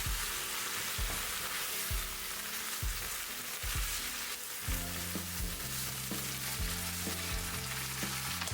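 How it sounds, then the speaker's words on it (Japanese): Ground meat and diced zucchini or eggplant for keema curry stir-fry in a pan, with a steady close sizzle broken by regular scraping strokes of stirring and sustained tonal music underneath in the second half. "先ほどのお肉に追加して全体を炒めていきます"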